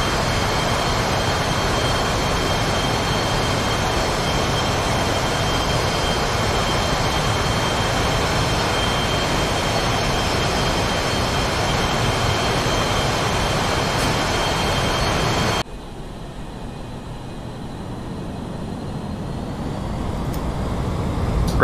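Jet engine of a Chengdu J-10A in the DCS World game, a loud steady roar with broadband rush that cuts abruptly to a quieter hum before slowly swelling again, with no talk.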